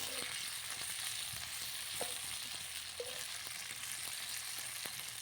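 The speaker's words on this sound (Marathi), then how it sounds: "भरपूर असा लसूण घातला आहे आणि आपल्या मिरच्या आता मस्त अशा तळून झाल्यात" Garlic and green chilies fry in a pan on a wood-fired stove with a continuous close sizzle, and a few faint clinks come through from stirring.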